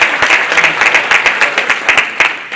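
An audience at a conference claps in brisk, uneven bursts, loud and close, with no one speaking.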